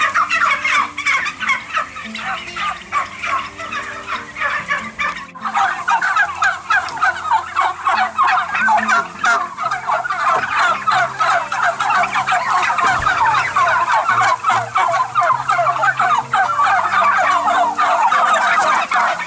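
Around four thousand turkeys in a poultry house on a free-range turkey farm gobble nonstop. The dense, overlapping chorus is loud and near, with no talking.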